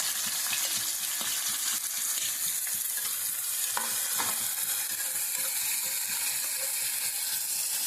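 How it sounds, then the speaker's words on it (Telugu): Chopped onions and green chillies fry in hot oil in a pan, giving a steady, close sizzle with faint scraping and stirring clicks throughout and no talking. "ఇవి అయితే ఎర్రగా వచ్చేదాకా వేయించుకుందాం."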